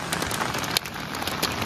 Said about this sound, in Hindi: मेरे टेंट में बड़े जोरों की बारिश आ रही है, आवाज़ सुनाई दे रही है।